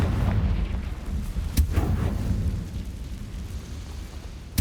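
A Confringo blasting spell goes off in Hogwarts Legacy, a loud rumbling boom with a sharp crack partway through, then a sustained low roar that slowly fades.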